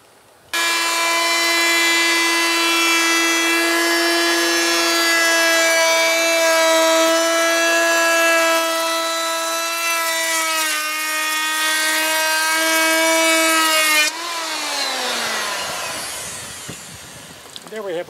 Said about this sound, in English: You can see the 30 degree bit on the end of the router here.